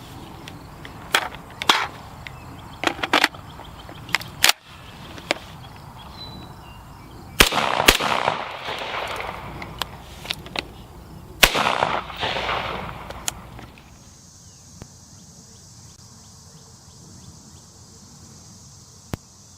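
Rifle shots in a soybean farm field in the Midwest: several sharp, loud cracks spaced irregularly over steady outdoor background hiss, with a few fainter pops and a quieter tonal stretch near the end.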